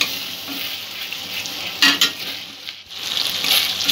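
A spice paste with a yogurt mixture sautés in a pan for Malai Rui rohu fish curry. A continuous hiss of sizzling is broken by a few louder stirring scrapes near the middle, with no voices.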